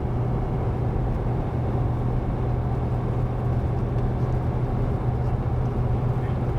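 A tuned 2020 Power Stroke truck tows a trailer uphill after dropping one gear, its engine holding a steady, moderately loud low drone with road noise, and a voice speaks briefly over it.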